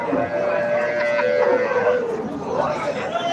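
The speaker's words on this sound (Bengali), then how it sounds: "দর্শক এই সাইডটাতে বিগ সাইজের গাভী আছে" Cows, including large-sized dairy cows, moo at the Bhangura cattle market, a drawn-out low bellow rising above the dense crowd chatter and talking of a busy livestock hat.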